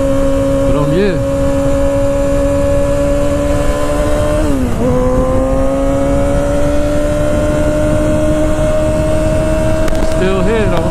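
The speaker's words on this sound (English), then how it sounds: "riding this bike is so much fun" Motorcycle engine running steadily while riding, a strong constant drone that dips and shifts pitch near the middle and again near the end, with wind noise throughout.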